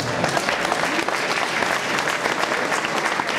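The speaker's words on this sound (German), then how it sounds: "dafür sollten wir mal einen dicken Applaus wenden" A crowd gives loud, dense applause at a 2009 municipal election broadcast event in Hagen, Germany, continuous clapping that carries evenly from start to end.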